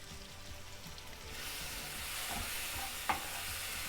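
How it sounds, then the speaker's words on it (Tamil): Tomatoes with spices cooking in a pan, being mashed and stirred, a steady low sizzle swelling midway with a faint soft tap near the end, distant and quiet, no voices. "இப்படி கொஞ்சம் தக்காளியை நசுக்கி இந்த மாதிரி கலக்கி போட்டோம்னாக்க கொஞ்சம் மசிஞ்ச மாதிரி வேகும்"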